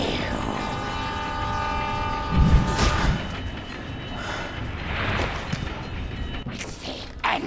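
A train in the video game Spider-Man: Shattered Dimensions rumbles loudly with a sustained horn-like tone and a surge of roaring noise, mixed with game sound effects and brief voices.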